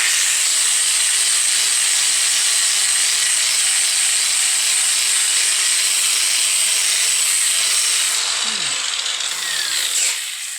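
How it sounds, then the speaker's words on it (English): An angle grinder fitted with a flap wheel works heavy steel to remove mill scale, a loud continuous high-pitched grinding hiss held steady for about ten seconds before briefly shifting near the end. "I'm just going to take the flap wheel,"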